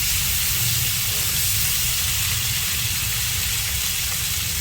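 Ginger paste sizzling in a hot frying pan while being stirred, a steady close hiss with no pauses for the few seconds heard.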